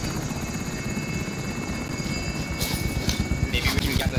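A helicopter in the video game Warzone drones steadily with a dense, pulsing rotor chop throughout, loud and close under game effects, growing a little stronger toward the end.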